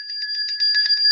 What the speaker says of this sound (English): That bell ring is for you.